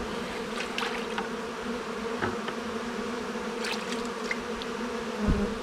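A honeybee colony living inside the wall of an abandoned RV gives off a steady, dense buzzing hum throughout, with individual bees passing close now and then.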